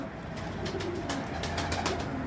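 Pigeons coo softly at close range in a series of low, rolling calls, with no one speaking.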